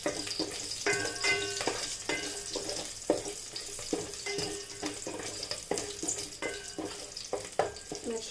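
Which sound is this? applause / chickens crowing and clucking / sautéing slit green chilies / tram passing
sautéing slit green chilies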